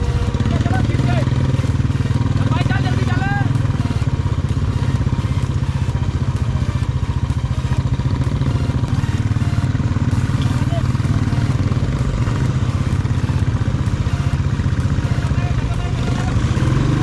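Motorcycle engine running steadily at close range on a slippery, muddy mountain road between Manali and Rohtang Pass, with continuous broadband rumble and crackle throughout and voices talking over it.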